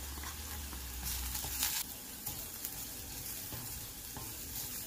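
Spices such as salt, red chilli, turmeric, coriander powder, garam masala and dried fenugreek roast in oil with onions for a moong dal vadi curry, making a soft continuous sizzle with light stirring scrapes.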